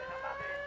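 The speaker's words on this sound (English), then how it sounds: "And now we have an alarm." Alarm going off in Ghost Recon Wildlands, a steady electronic tone with bright sustained harmonics, moderately loud and continuous through a brief moment, no speech.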